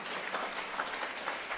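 Congregation applauding at a Kannada church worship gathering, a dense, even wash of many hands clapping at moderate distance, soft and continuous throughout.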